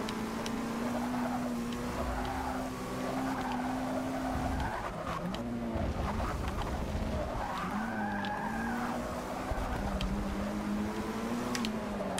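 A Volvo race car in the Forza Motorsport 6 Apex autocross racing game, its engine droning and revving in steady sweeps with tires skidding and squealing through corners, loud and continuous with no talk.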